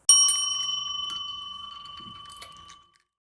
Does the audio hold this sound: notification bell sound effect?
yes